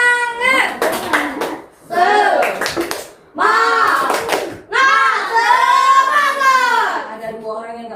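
Children in a classroom perform a rhythmic clapping chant, with bursts of quick hand claps mixed into loud, sung group voices across four phrases and short pauses between them.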